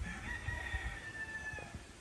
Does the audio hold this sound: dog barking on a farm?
no